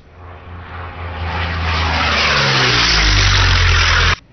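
A P-40M fighter plane's engine runs at full power in the IL-2 flight game, a loud roar that swells and rises for several seconds and then cuts off abruptly.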